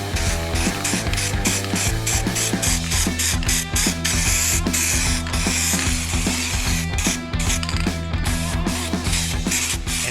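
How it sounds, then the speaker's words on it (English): Rattle-can spray paint hissing and sputtering on a truck being rebuilt, a loud continuous spray broken by irregular crackling spurts and ticks as the tilted can struggles to spray. "is the pain with spraying with rattle cans. As soon as that can gets anything but vertical, it has trouble spraying"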